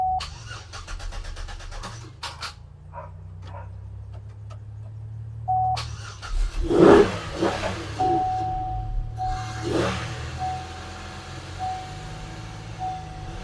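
A Pontiac Aztek engine cranks, catches and runs, rising into a few revs before settling into a steady idle, with a faint high tone sounding throughout.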